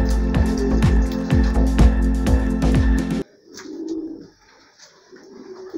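Pigeons cooing in a loft where a pair sits on two eggs in a nest, soft repeated coos that drop out into quieter bird sounds partway through.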